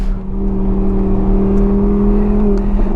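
An Audi R8 V10 engine drones steadily on a warm-up lap around a race track, a loud, close, sustained hum with an even tone and no talking.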